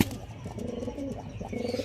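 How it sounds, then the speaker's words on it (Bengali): Andhra breed pigeons coo close by in soft, low repeated rolling calls, alone without speech. "কিন্তু পায়রা দেখো, আমি বলবো না কতটা কতটা রাগী পায়রা দেখো"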